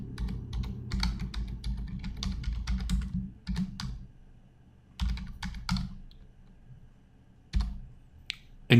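Typing on a computer keyboard, close and fairly quiet, with bursts of rapid key clicks separated by short pauses and a final louder tap.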